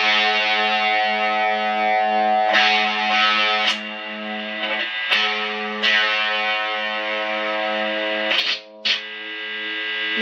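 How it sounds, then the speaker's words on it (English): An electric guitar played through heavy distortion rings out in sustained, buzzing chords, loud and steady, changing several times with brief choppy breaks near the end. "So with distortion, it's about easier to do."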